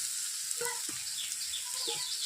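Chowmein and fried potatoes sizzle steadily in a pan at a street-style egg chowmein stall, a constant hiss with a few soft clinks and stirring scrapes over it.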